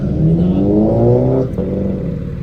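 A Porsche at an underground car meet revs loudly nearby, its engine tone climbing in a smooth rising whine before cutting off sharply, then settling into a lower idle.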